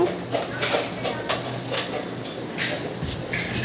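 A spatula stirs siru keerai poriyal in a pan, with tomato, turmeric and salt among the frying ingredients. Soft scraping and light clinks repeat over a steady low sizzle, close and moderately loud, with no talking.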